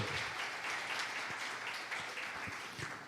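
A church congregation claps for Jesus in a short, steady burst of applause, dense and even with no talking over it.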